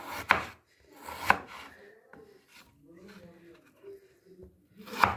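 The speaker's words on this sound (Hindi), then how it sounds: "अब हम आलू की भी कटिंग कर लेंगे इसको भी हम लंबे साइज में काटेंगे" Potatoes being chopped into long pieces with a knife on a board, a few sharp, separate chops spread out, with a quiet voice talking in between.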